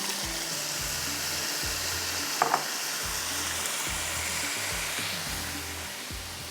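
Boiled mutton, cooked with garam masala for a zafarani biryani, goes into a hot pan with a continuous loud sizzle and low bubbling, with one brief metallic clink partway through.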